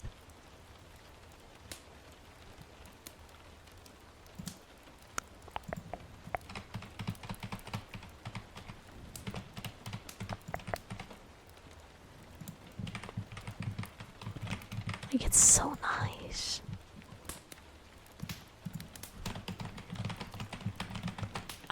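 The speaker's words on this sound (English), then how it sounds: "It's a Logitech keyboard." Typing on a Logitech computer keyboard about six years old, a steady run of soft clicky keystrokes in fast bursts with brief pauses, close by, while a voice speaks briefly.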